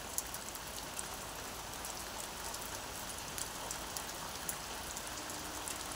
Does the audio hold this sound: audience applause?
no